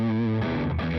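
A sustained, heavily distorted electric guitar tone through a Beetronics Overhive pedal rings out, thick and buzzing, with the chord shifting partway through.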